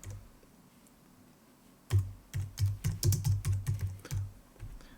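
Keys clatter on a computer keyboard in a quick burst of close taps, entering a subject line in a web enquiry form after a quiet start, with no voices.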